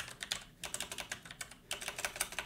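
Fast typing on a computer keyboard while writing WordPress configuration code, with bursts of crisp, close key clicks separated by a brief pause, and no talking.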